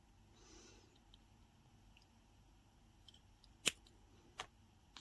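Wire ends snipped off with small cutters while making a bead chandelier pendant, two sharp isolated snips close by in a quiet room with faint handling noise.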